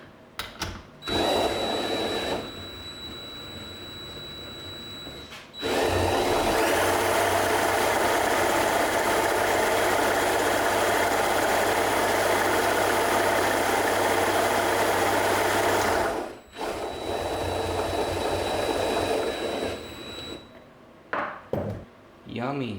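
A Yamaha PW80 dirt bike engine, freshly freed after being fully seized, spinning over in a steady sustained whir with metallic clatter, running loud and close for about ten seconds between quieter stretches.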